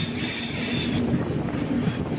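A fast express train heading toward Kollam Junction railway station in Kerala, heard from on board as a loud, continuous rumble of wheels and carriage noise with a faint rhythmic rattle, no voices.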